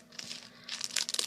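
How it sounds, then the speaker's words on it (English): Close crinkling and rustling of a sanitary pad wrapper being unwrapped, soft at first and then a louder burst of crackly plastic toward the end, brief and with no talking. "the wrapping or unwrapping can be pretty loud"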